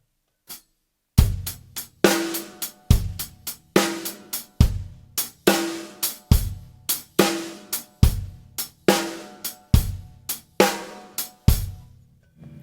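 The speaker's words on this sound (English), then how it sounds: "I'm going to play the bass drum on the first beat, the snare drum on the second beat, and we have a shuffle." Solo drum kit plays a shuffle groove, bass drum landing on the first beat and snare on the second, a steady loud swung pattern of sharp hits repeating for about twelve seconds with no talking.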